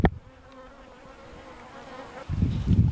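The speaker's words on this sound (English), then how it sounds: "I do see some bees" Bees buzz near the microphone in a steady, droning hum with a clear pitch around a feeder made from recycled canning jars, joined by handling bumps and rustling toward the end.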